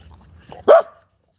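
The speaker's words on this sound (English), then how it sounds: "Don't bark at the apex predator" A single short, sharp bark from a dog close to the mic, followed by silence.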